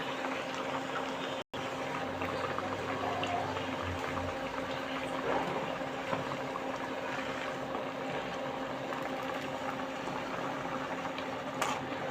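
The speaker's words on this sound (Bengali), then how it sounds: "এখন এখানে লাউ পাতাগুলো সিদ্ধ হবে।" Gourd leaves simmering in a covered pot, a steady soft bubbling hiss that runs evenly through the whole stretch, with a brief low rumble early on and a small clink near the end.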